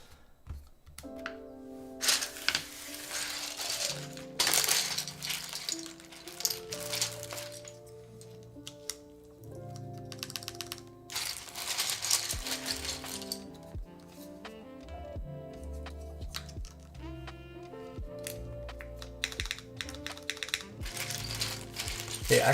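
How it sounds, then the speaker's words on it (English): Keycaps are pressed onto a Keycult No.2/65 mechanical keyboard, giving clustered plastic clicks and snaps at close range over a bed of background music. "let's put some keycaps on this bad boy"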